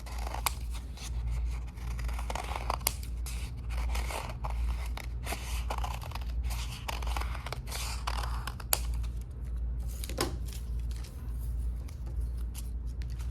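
Scissors snipping around the edge of a paper portrait frame, a close, steady series of crisp cutting clicks and paper rustles with no talking.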